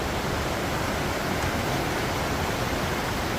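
Big waterfalls in Krka National Park roar as a dense, continuous rush of falling water, loud and close, with no pause or voices.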